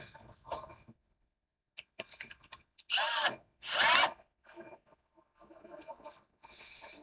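Short, harsh bursts of a power sander working wood, starting and stopping with quiet pauses and small handling knocks between them.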